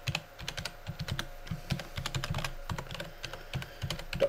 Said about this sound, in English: In here you need to type your email address.